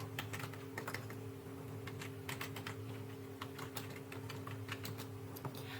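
Computer keys are tapped in quick, irregular clicks over a steady low electrical hum while a broadcast name is entered; the typing is faint and close, with no talking.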